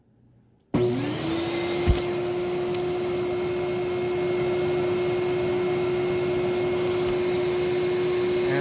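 A Kenmore Whispertone vacuum cleaner switches on with a sudden start and runs alone at a loud, steady drone with a constant motor whine, one brief knock near the start.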